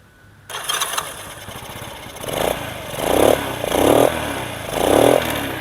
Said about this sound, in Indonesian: Ini suaranya, untuk suaranya sebenarnya masih standar banget suaranya Super Cup karena knalpotnya kan Super Cup.